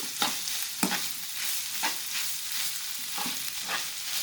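Minced meat with tomato sauce is stirred in a pan, a low steady sizzle with repeated rhythmic spoon scrapes about every second, close by with no voices.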